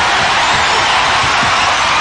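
A basketball arena crowd at the 1993 Spurs vs. Blazers Game 2 keeps up a steady, dense roar throughout, with no clear peaks or breaks.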